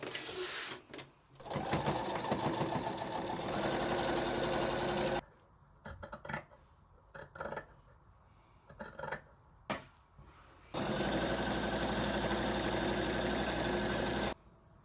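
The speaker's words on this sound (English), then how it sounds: "then you do right sides together and finish your French seam that way" A sewing machine runs in two long loud bursts, stitching a French seam on a kimono jacket, with a stretch of short stop-start runs and pauses between them, all close up and without talk.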